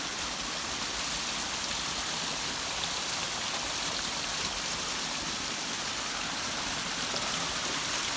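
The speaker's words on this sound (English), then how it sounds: "Look at this for a waterfall." Steady, full-bodied roar of a waterfall, broadband rushing water filling the scene continuously with no voices.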